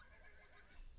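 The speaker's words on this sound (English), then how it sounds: "Why do they have to neigh like that?" A horse neighs in the retro-styled video game Hawkthorne, a shrill whinny stretching across the whole moment with faint hoof clip-clop mixed in, steady and fairly loud with no talking.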